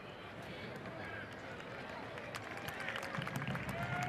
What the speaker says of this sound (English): they're both up now to the applause of this good crowd here on the Peoria Sports Complex